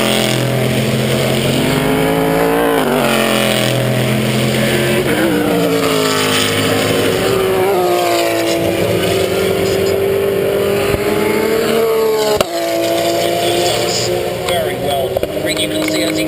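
A Corvette race car accelerates at VIR on race day, its loud engine rising steadily in pitch and held close and continuous for the whole stretch, with a brief sharp click near the end.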